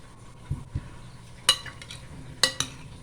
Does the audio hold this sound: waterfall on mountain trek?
no